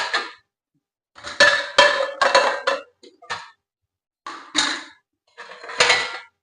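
Dried dishes and utensils clink and clatter as they are stacked and arranged, in several close, bright bursts separated by short quiet gaps, with no talking.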